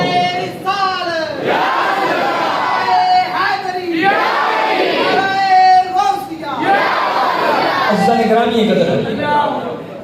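A crowd at a mosque prize-giving gathering chants Nara-e-Takbir slogans in loud, rhythmic call-and-response bursts, with voices swelling and dropping in waves.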